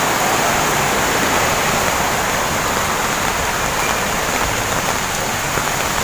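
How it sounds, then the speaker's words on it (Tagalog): Weakening rain keeps falling while runoff water flows along, making a dense, steady hiss and rush of drops and streaming water with no pauses. "So ngayon, humihina na to dahil medyo pahina na rin yung ulan. Tuloy-tuloy pa rin siya."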